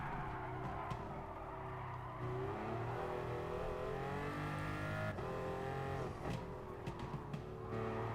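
Race car engine from the Gran Turismo Sport video game, a steady loud drone with shifting pitch as the car runs casual laps, rising and falling through gear changes with no talk over it.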